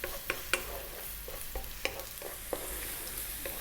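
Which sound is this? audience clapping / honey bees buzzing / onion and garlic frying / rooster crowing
onion and garlic frying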